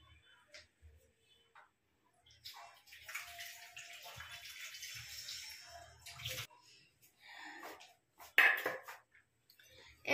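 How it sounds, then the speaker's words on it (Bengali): Garlic cloves and a chilli are rinsed in a bowl of water in a home kitchen, giving a few seconds of steady splashing and sloshing close by, with quieter clinks and dribbles afterward. "জল দিয়ে ধুয়ে নিই।"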